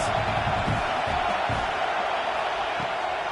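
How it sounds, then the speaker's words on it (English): Football crowd noise in a stadium during a late-game third down, a steady roar of fans backing the defense with scattered shouts and thumps, loud and continuous throughout. "Big third down as the crowd gets behind this defense."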